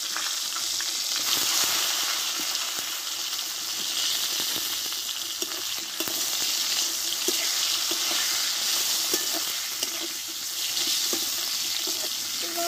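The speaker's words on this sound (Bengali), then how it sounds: "বেগুনগুলোকে আমি একটু কষে নেবো আগে" Eggplant pieces frying in mustard oil with turmeric and salt, a loud, continuous close-up sizzle with faint stirring and scraping sounds running underneath throughout.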